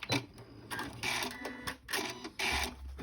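A sewing machine stitches a fabric pouch in several short, loud bursts of rapid mechanical buzzing, broken by brief pauses between runs.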